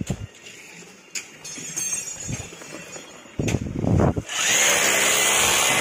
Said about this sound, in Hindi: देखिए यहाँ पर सीढ़ियों का निर्माण कार्य चल रहा है